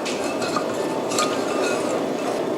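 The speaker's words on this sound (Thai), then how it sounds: "ยังได้ยินเสียงน้ำตาลเป็นเม็ดๆ อยู่แล้วก็พยายามกวนให้มันละลายเข้ากันนะคะ" Grainy sugar scrapes as a spoon stirs sauce in a pot, making close repeated gritty clinks and scrapes against the metal in a continuous rhythm.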